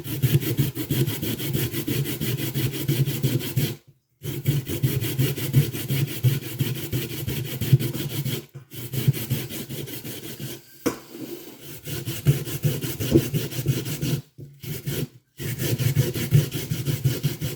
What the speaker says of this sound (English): I'll start with the potato, and you want to grate it on this side.